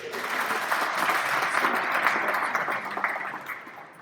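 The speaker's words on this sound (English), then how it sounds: "You can clap for him anyway, it's okay" An audience at a Greater Omaha Chamber event claps steadily for an absent honoree, a dense, even patter of many hands filling the room for about four seconds before tapering off.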